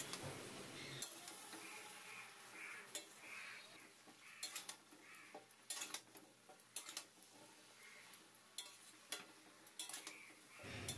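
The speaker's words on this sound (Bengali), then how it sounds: "এই সময় গ্যাসটা হাই ফ্লেমে করে সবজিটা মাছের তেলের সাথে ভেজে নেব।" Cut vegetables frying in fish oil over a high gas flame, with a steady background sizzle and repeated clinks and scrapes of a utensil stirring in the pan, close and fairly quiet.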